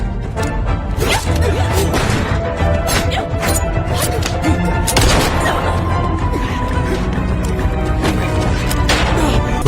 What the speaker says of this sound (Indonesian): Beberapa tembakan mengenai tubuh Pon di saat dia menyelamatkan Bowie